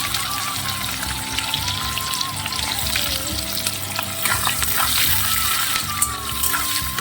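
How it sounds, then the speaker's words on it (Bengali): Cumin seeds and chopped onions fry in mustard oil, giving a steady, close sizzle with crackling that runs throughout, plus a faint high whine and a few light stirring taps. "দিয়ে দিলাম জিরে আর যে পেঁয়াজগুলো কুচিয়ে রেখেছিলাম পেঁয়াজগুলো দিয়ে দিলাম"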